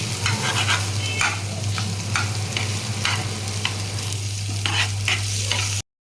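Chopped green chillies frying in a pan for a brinjal and egg curry, a steady close sizzle with a low hum underneath and repeated scraping stirs at an uneven rhythm, no voices.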